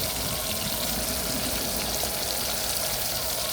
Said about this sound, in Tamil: பொரிக்கும் சீரகம்ல போட்டு மீன் பொரிக்க